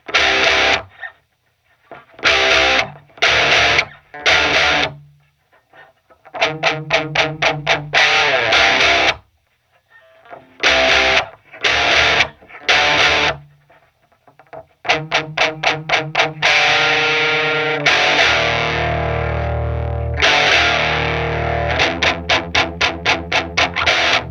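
Distorted electric guitar through an Ampeg V7 tube amp plays chopped chords in bursts with pauses, then moves into a sustained, gritty strummed passage; thick overdriven tone, loud and close.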